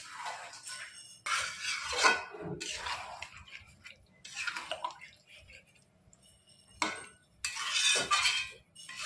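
Fried spice mix is stirred into chicken in a pan, with bursts of scraping and clinking from a utensil against the metal and quiet gaps between them.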